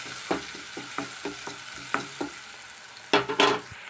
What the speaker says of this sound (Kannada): ಈಗ ಇದು ಒಂಚೂರೇ ನಮಗೆ ಫ್ರೈ ಆಗಬೇಕು